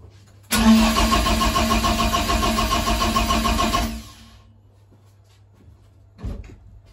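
A BMW E30 being prepped for rally cranks for about three and a half seconds with a steady whirring starter drone, then the noise cuts off, followed by a brief thump.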